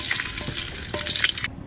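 Bay leaves crackle and sizzle in hot mustard oil at the start of a crab curry, a close, bright spitting hiss that cuts off sharply near the end, with no voices.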